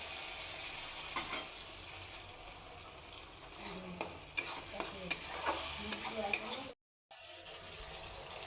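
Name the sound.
ash gourd pieces frying and being stirred in a pan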